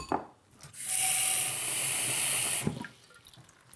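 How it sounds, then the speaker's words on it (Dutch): A tap runs into a steaming pot for a few seconds, giving a bright, steady rush of filling water with a few small clinks and handling sounds before and after. "uw pot vullen met een bodemke water"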